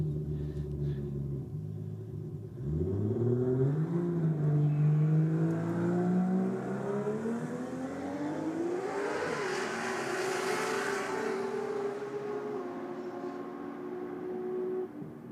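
A Nissan Skyline and a BMW roll race on a road, engine notes rising through gears as the cars accelerate and pass, a climbing whine and roar, moderately distant, with no talk.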